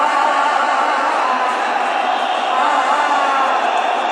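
A large football crowd at a Kenya vs DRC CHAN match roars in a dense, sustained wash of cheering and noise that holds at a constant loud level throughout with no pauses.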